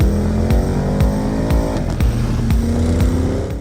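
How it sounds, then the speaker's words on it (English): A Porsche Cayenne GTS with a 460 PS twin-turbo V8 accelerating hard, a loud close engine roar climbing through the revs with several quick gear changes punctuating the pull. "The current Cayenne generation is returning to the V8, which now comes for the first time as a V8 twin-turbo engine with a power of 460 PS."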